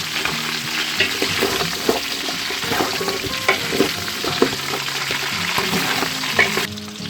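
Mutton trotters fry in hot oil for a paya recipe, giving a steady close sizzle with frequent stirring scrapes and clinks that carry through the whole stretch and ease off only at the very end.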